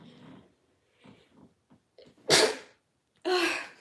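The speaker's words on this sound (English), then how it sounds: "I need to sneeze" Two loud, sharp sneezes about a second apart, following a stretch of soft, halting talk.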